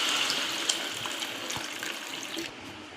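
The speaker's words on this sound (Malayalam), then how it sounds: "നമുക്കിതിലേക്ക് ഇനി ചൂടുവെള്ളം ഒഴിച്ചു കൊടുക്കാം" Hot water pours into a pan of home-style chicken curry in a kitchen, a steady close splashing gush lasting about two and a half seconds, then trailing off, with no voices.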